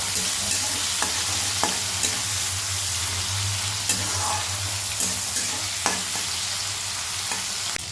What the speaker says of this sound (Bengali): চিংড়ি মাছটা হালকা একটু ভাজা হয়ে গেলে কিন্তু আমি তুলে রাখবো